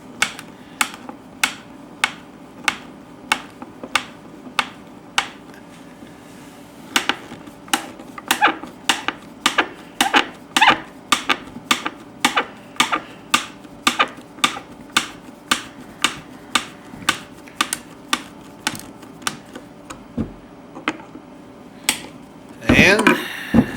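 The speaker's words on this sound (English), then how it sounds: "you're going to take a Phillips screwdriver and just screw them in." Phillips screwdriver drives screws into a wooden birdhouse kit in a woodshop, a steady string of sharp clicking ratchet-like ticks repeating about every half second at close range, with faint voices in the background.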